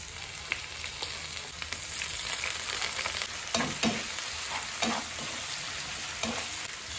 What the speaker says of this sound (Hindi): तो अभी डालते हैं अदरक लहसुन पेस्ट को।